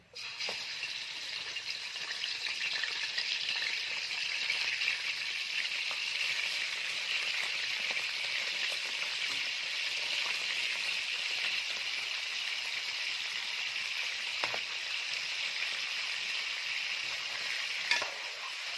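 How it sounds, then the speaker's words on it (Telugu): Pieces of goat head fry in hot oil for goat head curry, a steady, dense sizzle that continues unbroken and close throughout, with faint stirring rattles and a brief knock near the end. "హీట్ ఎక్కిన తర్వాత మెత్తన ముక్కలన్నీ ఈ నూనెలో వేసుకోండి"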